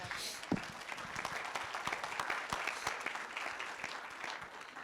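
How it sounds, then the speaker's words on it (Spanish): An audience at a privacy and data protection panel applauds a panelist, a fairly quiet but steady patter of many hands clapping in a room, with scattered sharper individual claps. "Les pido un fuerte aplauso para Jessica."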